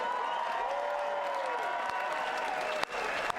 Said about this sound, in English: how about a round of applause for both these fighters?